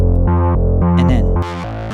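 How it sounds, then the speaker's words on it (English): A short run of thick, overdriven bass notes through a Mixland Tilt tube distortion grit setting, loud and close, a few phrases with a gritty edge before the tone shifts near the end. "The tube distortion in that grit setting really did something special to that bass track."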